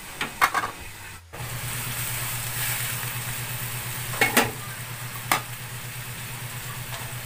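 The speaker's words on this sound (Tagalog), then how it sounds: "Haluin natin siya" Chicken apritada frying in a pan, stirred with a utensil: a steady close sizzle runs throughout, with a few scraping clinks of the spoon against the pan early and midway, and no talking.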